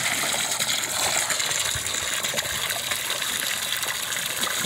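Loud, steady rush of water gushing and splashing for puppies to play in outdoors, a close, continuous wash of noise with no pauses and no voices.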